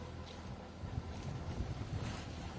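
Steady west wind rushing past a sailboat, a low rumbling buffet of gusts against the microphone with faint water noise, no voices.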